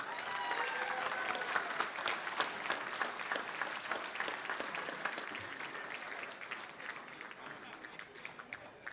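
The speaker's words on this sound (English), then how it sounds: "Ladies and gentlemen, round of applause for Mr. Steve Mumford" An audience at the 2019 Montgomery County Coaches Hall of Fame applauds honoree Steve Mumford, a teacher and coach, with steady dense clapping that holds for nine seconds and thins slightly toward the end, a few voices faintly mixed in.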